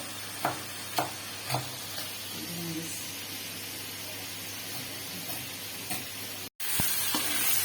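Koftas frying in oil until browned, a low steady sizzle with several sharp clinks and knocks of a utensil early on, close and moderate, with a brief cut near the end.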